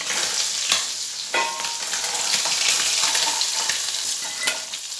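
Masoor lentils frying with spices in a hot pan, a dense, close sizzle with scraping stirs and a few sharp clicks of a spatula against the metal.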